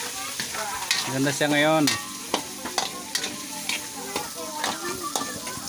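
Japanese shellfish sizzle and are stirred in a frying pan, with a constant close crackle and scraping stirs, while a person speaks briefly over the cooking.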